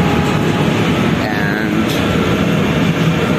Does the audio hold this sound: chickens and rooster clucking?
no